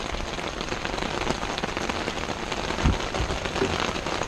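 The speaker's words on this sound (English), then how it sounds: "now it just starts raining" Steady rain falls on a hard surface outdoors during roadside car work, a dense continuous patter of drops with a slightly louder tap near the end.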